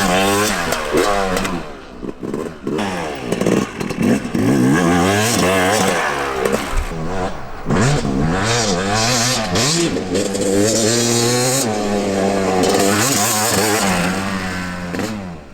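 A 2024 Yamaha YZ250 two-stroke dirt bike revs hard and repeatedly, its crackling engine pitch sweeping up and down in loud, close blips with brief drops between throttle bursts.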